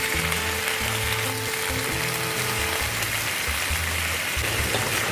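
Vegetables stir-fry over high heat in a pan, giving a loud, continuous sizzling hiss with a low rumbling hum beneath it. The hum drops away partway through, and the sizzle carries on alone.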